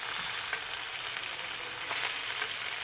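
Redfish fillets frying in a pan, a dense, steady sizzle with faint crackles throughout and no talk.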